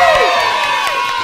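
An audience cheering and whooping loudly in a continuous crowd roar, shouts rising over the noise.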